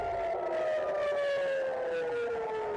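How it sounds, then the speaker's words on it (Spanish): Air raid siren sounding over Tel Aviv in a news report, one long steady wail slowly gliding downward in pitch, sustained and loud throughout with no talking. "Suenan sirenas sobre Tel Aviv mientras una lluvia de misiles impacta en la nación."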